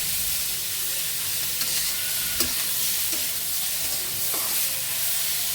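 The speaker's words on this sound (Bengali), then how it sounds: "পেঁয়াজ আর কাঁচামরিচ দিয়ে দিচ্ছি আলু আর পুটল ভাজা হয়ে গেছে" Onion and green chili hit a pan already holding fried potatoes and pointed gourd, giving a steady, close sizzle with a few soft stirring clicks and no voices.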